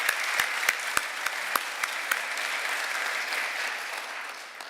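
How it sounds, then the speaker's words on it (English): A steady round of audience applause follows a speech at a ceremony, broad crowd clapping with a few louder nearby claps early on, tapering slightly toward the end. "I'd like us to raise another round of applause for the Premier."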